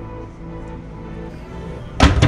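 A low steady room hum, then a single solid thunk near the end as a door inside an RV swings shut close by.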